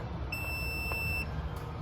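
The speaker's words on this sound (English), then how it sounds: "when you connect the 2 wires, you're gonna get a beep" A single steady electronic beep sounds for about a second, clear and high-pitched, over a low background hum.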